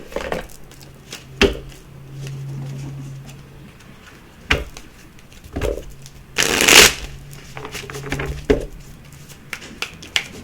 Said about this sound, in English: Let's give it a quick shuffle here.